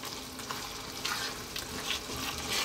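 Courgette (zucchini) pieces dropped into a hot pan for a curry, giving a close, continuous hiss and sizzle with a few soft shuffling bumps over a couple of seconds.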